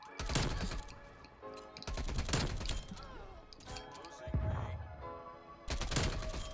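A Milano 821 submachine gun fires in Call of Duty, in several rapid automatic bursts separated by short pauses, with crisp close-up reports and some impact and crash sounds between them.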